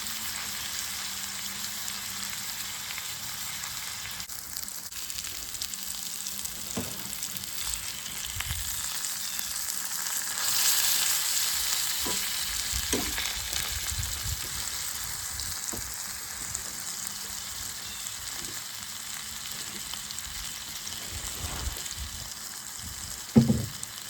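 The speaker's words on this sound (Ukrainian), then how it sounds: "Так, рибка смажиться. Смажиться і цибулька." Fish and onions with sugar sizzle and crackle steadily in a frying pan, a constant hiss with occasional pops and stirring clinks, no voices.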